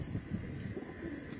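A pigeon coos softly on an Abu Dhabi rooftop, low repeated throaty calls close by over faint wind, with no talking.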